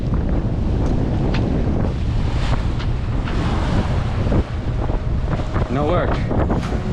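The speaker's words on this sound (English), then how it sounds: "Still reefed, a lot of wind." Strong wind buffets the microphone in a constant roar, with water rushing and sloshing beneath as a boat moves under reefed sail.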